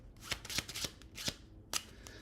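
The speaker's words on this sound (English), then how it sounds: "And then you can even give the cards a bit more of a shuffle." A deck of playing cards being shuffled during a live mentalism magic session, several quick riffling bursts in irregular succession, close and crisp with short pauses between.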